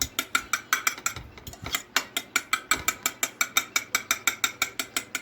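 Peanut cake batter being beaten in a bowl, giving a fast, steady, regular run of loud rattling strokes that keeps going without pause, close up and with no talk over it.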